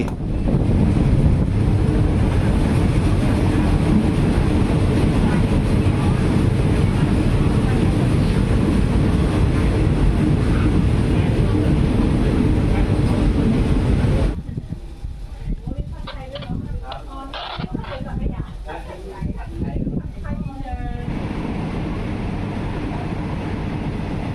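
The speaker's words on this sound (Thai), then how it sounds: "ตอนนี้รถไฟขบวนของเราก็ได้แล่นมาถึงจุดที่สำคัญที่สุด" A train runs along the Death Railway line toward Sai Yok. A loud, steady rumble and rush of wind and track noise buffets the microphone, then drops abruptly partway through to a quieter, more broken clatter with a faint voice.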